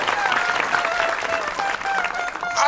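Steady audience applause fills the room after a correct quiz answer, dense continuous clapping with a tonal music sting threading through it and a brief swell near the end.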